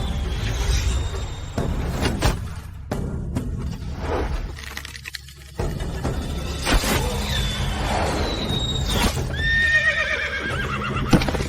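A horse whinnies loudly several times, close by, while its hooves clop and scrape; sharp knocks and a rushing swish break in along the way, with no talk over it.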